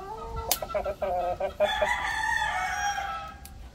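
A Rhode Island Red rooster crows close by, one long cock-a-doodle-doo with stuttering clucks at the start, rising into a drawn-out loud call that fades over a few seconds.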